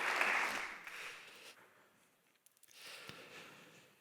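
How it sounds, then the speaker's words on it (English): Conference audience applause, brief and fairly quiet, fading out within a couple of seconds and followed by a faint room murmur. "Big applause, at least here from the audience."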